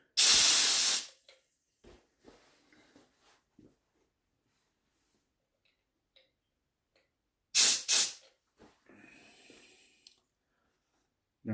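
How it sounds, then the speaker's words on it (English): CO2 hisses sharply from a spunding valve while a beer keg is purged: one strong burst of about a second, quiet fiddling, then a second shorter double blast. "it will still blow off from the spunding valve as it's needed at 12 psi"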